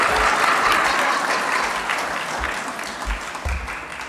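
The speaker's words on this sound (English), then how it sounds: "You're not supposed to clap." A church congregation bursts into applause at a Lessons and Carols music Sunday, with full, sustained clapping from many people that eases slightly toward the end without fading out.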